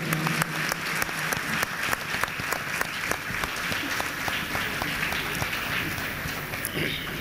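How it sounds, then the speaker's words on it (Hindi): Loud applause from a concert audience welcoming Sufi qawwali performers at a music festival, a sustained, even roar of clapping with crisp individual claps standing out throughout. "ज़ोरदार तालियों से इस्तकबाल करें."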